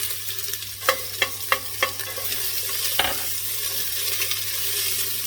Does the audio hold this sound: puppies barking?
no